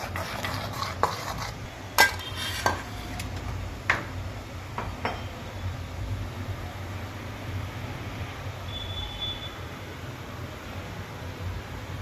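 A spoon stirs Eno into sour buttermilk dhokla batter in a bowl, giving wet swishing strokes with a few sharp clinks against the side that thin out to quieter mixing.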